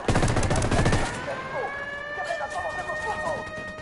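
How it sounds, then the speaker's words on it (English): Video game gunfire erupts as a loud, rapid burst of shots lasting about a second, then gives way to a wailing siren and quieter effects. "Opening fire."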